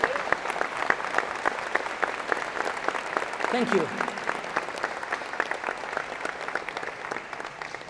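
Audience applauding a graduate's family at a 2023 engineering and computer science convocation, with steady clapping from a large crowd over several seconds and a brief spoken thanks partway through.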